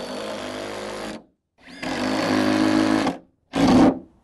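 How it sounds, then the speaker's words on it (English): A power drill drives screws into the joists of a modular deck in three loud bursts, two longer whirring runs and a short final one, separated by brief silences. "So now I'll continue on screwing the rest of the deck in."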